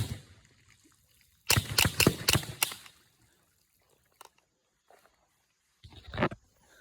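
Sharp outdoor gunshots from a CO2 BB pistol and a .22 caliber pistol fired at a pond: a quick burst of four loud reports, then a lone distant crack and another shot a few seconds later.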